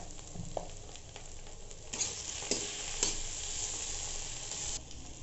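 Potatoes sizzle steadily as they fry in a pan. A spoon scrapes and knocks through them now and then, close and clear, with no voices.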